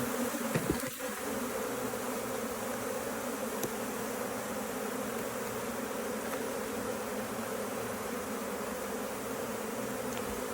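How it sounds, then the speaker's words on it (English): A crowd of honeybees in an open hive colony drones in a dense, continuous buzz that stays even throughout, with a brief knock near the start and no talking. "Certainly plenty of bees in the colony."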